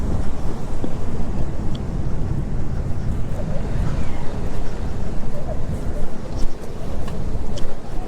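Fast-flowing mountain water rushing under a road culvert on the Spiti route, a loud, dense, continuous roar with wind buffeting the microphone, steady throughout.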